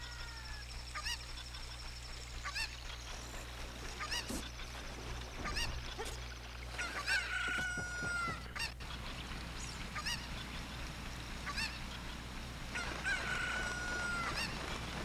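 Chickens (cuccos) in the N64 game Zelda: Ocarina of Time Master Quest cluck and squawk in short repeated bursts over a low steady game background hum, fairly faint and without speech.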